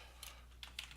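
Quiet typing on a computer keyboard, a few light scattered keystrokes close by in a brief moment.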